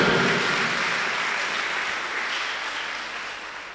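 Church congregation clapping together in a sustained, dense round of applause that starts loud and eases slightly toward the end, with no voices standing out.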